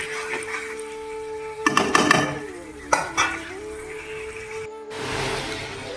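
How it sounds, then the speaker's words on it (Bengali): Chicken being sautéed in a pan for a Bengali meat curry, spatula scraping and stirring in bursts over a low steady sizzle, close by, with a brief dropout near the end. "তোমরা দেখতেই পাচ্ছ চিকেনটা কষানো চলছে।"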